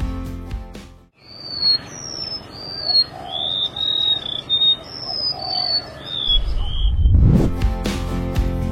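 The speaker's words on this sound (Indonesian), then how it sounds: "Jenis ke-25, burung remertuk laut" Song of the remetuk laut, a small Indonesian songbird: a series of thin, high whistled notes in short phrases, clear and close, with music before and after.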